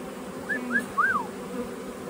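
Honeybees fly around their hive after the snow, a soft low buzzing with a few thin, high chirping notes over quiet background.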